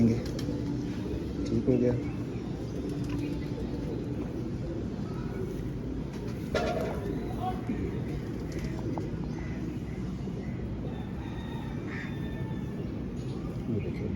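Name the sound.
pigeons cooing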